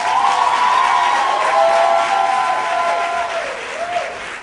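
Audience applause at a comedy club stand-up set, a dense wash of clapping and crowd noise filling the room, with faint voices and cheers layered through it as the clapping slowly thins toward the end.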